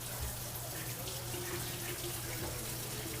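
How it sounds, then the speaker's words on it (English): Tap water runs steadily into a kitchen sink while black bean pasta is rinsed, a constant moderate splashing rush with no voices. "I'm gonna rinse this thing off"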